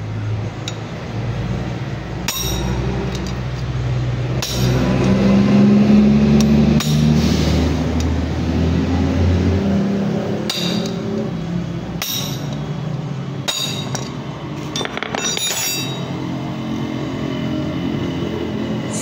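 Old transmission oil seal being hammered out of a Honda Beat scooter, with sharp metallic strikes spaced irregularly every second or two, loud and close, over a low background rumble.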